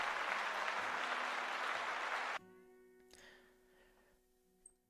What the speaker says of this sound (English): A clap for Gemjar.